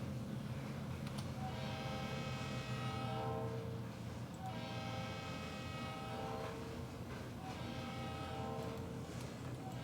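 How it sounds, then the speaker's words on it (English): A model train runs along a branch line layout, a steady mechanical rumble with repeated bright horn-like tones sounding in three long blasts, close and fairly even in loudness throughout. "the train really slowed down there for us."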